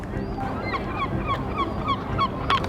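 Several gulls calling in the open air, a string of short repeated cries spaced through the moment at mid distance, over a steady outdoor background.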